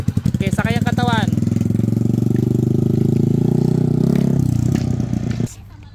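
Yamaha Sniper 155R motorcycle engine idling with a close, rough pulsing putter that carries on under a voice for several seconds, then sputters and cuts out to near silence as it stalls.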